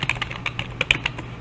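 Computer keyboard keys are pressed in a quick, uneven run of close, crisp clicks with no talking.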